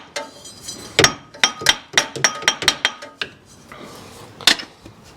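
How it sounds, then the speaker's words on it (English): Hammer blows on a 1955 Chevy Nomad, about ten sharp metallic strikes, mostly in a quick, fairly even run, then one louder hit after a short pause. Clanking and close, with no talking. "We need a hammer."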